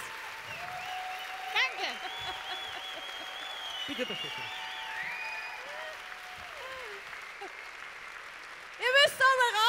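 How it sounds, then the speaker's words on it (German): A crowd at a Vienna cabaret festival applauds two performers with a steady wash of clapping while someone speaks briefly over it, and the applause swells louder at the end. "Applaus."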